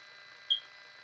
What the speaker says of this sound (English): There's an annoying beep in the background.